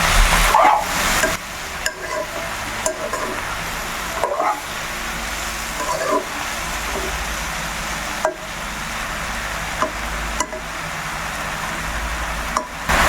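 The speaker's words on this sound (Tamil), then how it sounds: "நல்லா வதக்கணும் வதக்குறதுலே இருக்கும்" Mushrooms are sautéed in a pan for a gravy, with continuous close stirring, scraping and sizzle broken by repeated sharp knocks of the spoon against the pan.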